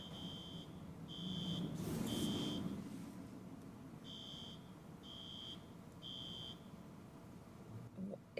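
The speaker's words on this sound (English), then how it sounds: "that sounded like a fire alarm going off, but outside?" Outdoor fire alarm sounding in a series of evenly spaced bursts of high electronic beeping, distant and fairly faint over a steady background hum, with no voices.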